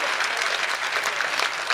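Audience at a Hindi comedy poetry gathering breaks into steady, dense applause, many hands clapping together for the whole stretch without any break.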